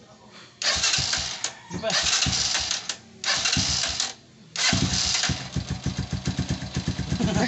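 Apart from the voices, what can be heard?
motorcycle engine starting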